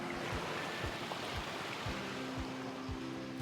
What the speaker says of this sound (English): it creates a wonderful waterfall sound